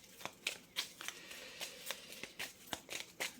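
Lenormand oracle cards being shuffled in quick bursts, a series of crisp riffling swishes and light slaps close by, with short gaps between each pass and no talking.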